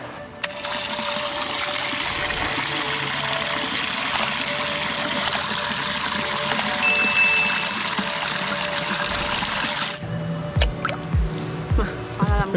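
Water runs and splashes inside a small geocache container being rinsed out, a loud continuous gush for about ten seconds before it stops, followed by a few drips and handling sounds.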